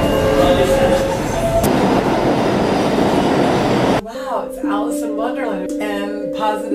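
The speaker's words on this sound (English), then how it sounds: "I got off the subway." A New York subway train rumbles loudly and steadily with a dense roar for several seconds, then abruptly gives way to voices and tones.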